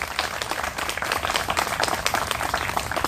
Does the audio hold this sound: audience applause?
yes